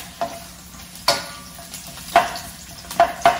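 Onion sizzles quietly in a pan as mole poblano goes in, with a soft steady fry broken by several sharp clicks and stirring scrapes.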